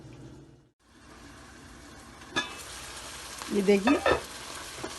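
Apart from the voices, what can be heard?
bottle gourd sabzi sautéing on high heat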